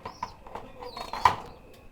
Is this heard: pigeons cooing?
yes